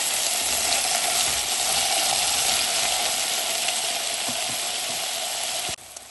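Continuous loud sizzling of plantain added to hot oil, even and close, stopping abruptly near the end.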